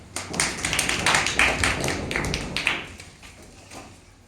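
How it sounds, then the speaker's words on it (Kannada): A group of people gives a short round of hand clapping, a quick dense burst of claps close by that swells and then fades out over a few seconds. "ಚಪ್ಪಾಳೆ ಹಾಕಿ"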